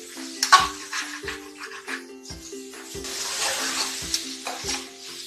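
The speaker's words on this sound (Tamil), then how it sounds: "இது எல்லாத்தையும் நல்லா கிண்டி விட்டு" Macaroni pasta and vegetables are stirred in a frying pan, with a soft sizzle underneath and repeated scraping knocks of a spoon against the pan, roughly one every half second, close up with no talking.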